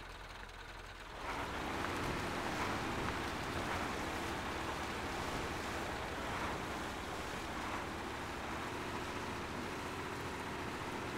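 A truck ploughs through deep water on a flooded map in the video game Mudrunner, a steady loud wash of splashing and churning water with a low engine drone underneath, starting abruptly after a quiet second.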